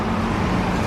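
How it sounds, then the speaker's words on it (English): A bus rumbles past close by on an Edinburgh street, a loud, broad low engine and road roar filling a short burst of traffic noise. "Whoa, bus! That was me almost dying."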